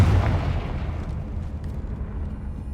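A Confringo spell explosion in Hogwarts Legacy: a loud boom at the start that decays into a rumbling, crackling tail, with no talk.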